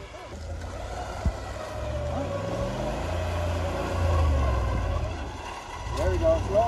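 A Lexus GX 470 SUV drives through snow on a mountain road, its engine a steady low drone with shifting pitch under the hiss of tires, while people talk over it inside the cab.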